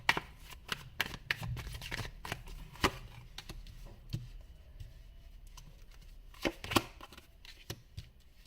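Tarot cards are shuffled and drawn in quick, riffling bursts of soft paper flicks and taps, close and fairly quiet, with brief pauses between the bursts.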